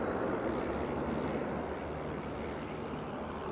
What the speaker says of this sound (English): Boeing 777.